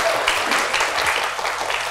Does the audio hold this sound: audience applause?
yes